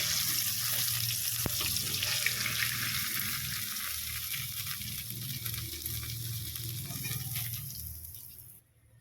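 Fried fish for a Bengali lote fish curry crackles and sizzles steadily in hot oil, a dense close hiss under a low hum that runs throughout before cutting off abruptly at the end.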